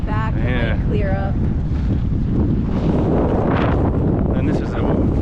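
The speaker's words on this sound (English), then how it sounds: "It's extremely windy right now." Strong, gusty wind at Big Pine Lakes, California, roars and buffets the microphone without a break, with a voice and faint water sounds briefly audible underneath near the start.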